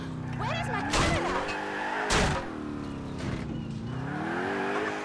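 A car races hard through Grand Theft Auto IV on Xbox 360, its engine droning and shifting pitch with bursts of tire noise and a couple of thumps, loud and continuous under game sound.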